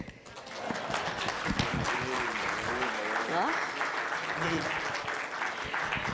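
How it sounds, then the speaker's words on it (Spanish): An audience at a judicial panel on international cooperation and data protection applauds steadily through the whole stretch, with voices murmuring beneath the clapping. "¿Se vale aplaudir?"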